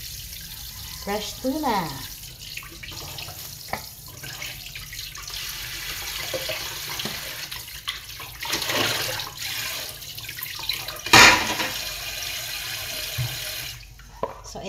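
Tap water runs intermittently as fresh tuna is rinsed under a kitchen faucet, with a soft steady flow, splashes and a sharp clatter near the end, while a person talks over it.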